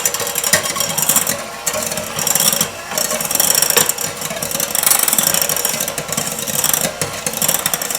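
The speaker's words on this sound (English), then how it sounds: "We're going to take our mixer and we're just going to mix that up a little bit." An electric mixer mashes banana for pancake batter in a mixing bowl. The motor whirs loud and close with a rough, rubbing grind that runs steadily for several seconds with small dips.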